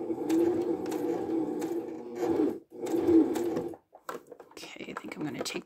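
A sewing machine stitches a small pellet-filled phone pillow, running in steady motor bursts of about two and a half seconds and one second, with a short pause between them and a softer, more scattered rustle at the end.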